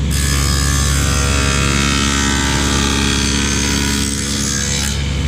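A power tool cuts a 3/8-inch rabbet into the back of a wooden cabinet door, giving a loud, continuous close-up whine and grind for the whole stretch with no talk.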